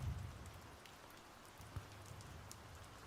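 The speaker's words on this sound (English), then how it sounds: "But it is raining outside, actually." Rain falls steadily outside as a soft, faint hiss of drops on surfaces, with a few slightly louder patters and no talking.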